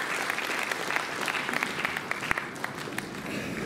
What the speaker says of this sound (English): we need a good round of applause for that